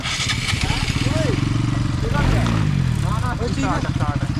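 A motorcycle engine runs steadily at close range with a throbbing low rumble, while people talk over it throughout.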